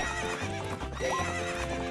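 A horse gallops during a race in the video game The Legend of Zelda: Majora's Mask, its steady rhythmic hoofbeats running alongside game sounds and a brief whinny, with no talk.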